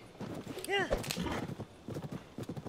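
Horse hooves clip-clop steadily in the Zelda: Tears of the Kingdom video game, with a short whinny rising near the start and a voice talking over the sound.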